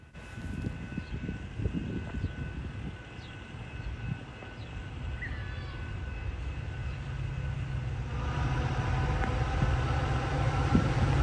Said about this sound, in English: An F40PH-2, number 112, heading an outbound metro train.